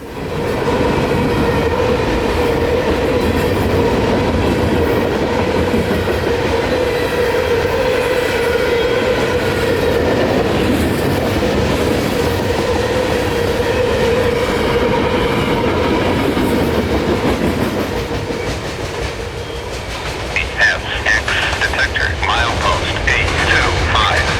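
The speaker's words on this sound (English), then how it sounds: "it's got its fair share of covered hoppers, box cars, gondolas, tank cars, and rock hoppers" A freight train of covered hoppers, box cars, gondolas, tank cars and rock hoppers rumbles past steadily with rhythmic clacking wheels, loud and close, and a brief squeal or shift near the end.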